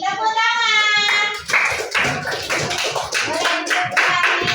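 A classroom group bursts into hand clapping right after a brief voice, with a dense, uneven round of applause from many hands that continues steadily for several seconds.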